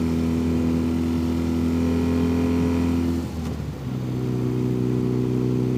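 A Dnepr MT16 sidecar motorcycle fitted with a BMW R60 boxer engine runs loudly and steadily nearby, its low, even drone easing briefly before settling back to a constant hum, with no voices.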